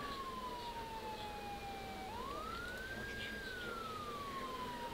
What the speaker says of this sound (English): You can hear their siren pulling up.